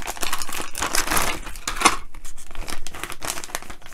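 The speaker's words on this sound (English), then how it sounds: "Okay, so let's get the parts out of the bag." Plastic bag crinkling and rustling up close as small model kit parts, a washer, adhesive tape and screws, are pulled out of it, with a sharp crackle near the middle and steady handling throughout.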